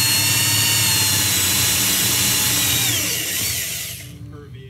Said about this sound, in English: So just a little bit of a rev to get the hole started and then go at it.